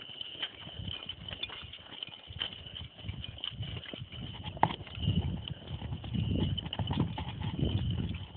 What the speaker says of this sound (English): Good horses.